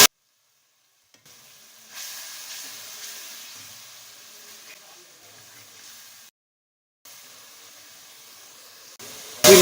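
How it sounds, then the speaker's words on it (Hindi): Ground masala frying in oil with boiled chickpeas for Lahori chana, a moderate steady hiss and sizzle that cuts out in two short silent gaps, with a sharp loud burst at the very end. "इनको अच्छी तरह से फ्राई करना है यहाँ तक कि ऑयल जो है वो अलग हो जाए।"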